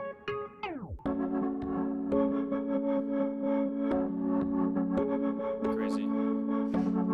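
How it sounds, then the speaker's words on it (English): A sample loop plays with a sweeping pitch-dropping intro, then sustained melodic tones drenched in heavy reverb and distortion, with short percussive hits punctuating the wash. "That reverb's crazy."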